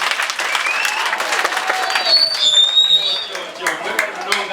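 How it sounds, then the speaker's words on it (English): A crowd applauds at an FS Global partnership event, with dense, steady clapping throughout, bright whistles or cheers rising over it partway through, and voices mixed in. "Clap for yourselves."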